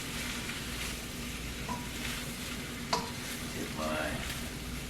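Spicy chicken and shrimp are stirred in a hot pan for an Alfredo, a steady sizzle under scraping spoon strokes and a few sharp clinks against the pan.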